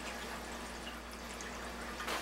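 Water runs steadily through a machine being cleaned, a continuous close pouring rush under a low hum, swelling briefly at the end.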